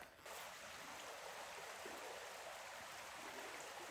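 River water flowing: a steady, broad rushing wash that stays constant and fairly faint, with no voices.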